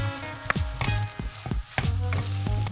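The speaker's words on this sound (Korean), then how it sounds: "파향이 올라오면 떡이랑 어묵 넣고 살짝 볶다가 양념 넣고 섞으면서 볶아주세요." Rice cakes and fish cakes stir-frying with sauce in scallion oil for oil-style tteokbokki, giving a close sizzle with repeated scraping and clattering strokes of a utensil against the pan.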